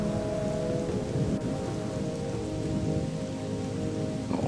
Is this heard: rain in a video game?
yes